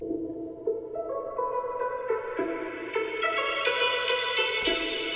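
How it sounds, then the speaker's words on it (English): A washed-out drop synth with heavy reverb plays rising chords in an FL Studio project, its brightness gradually opening up as a low-pass filter sweeps upward. "we've got the drop synth coming in"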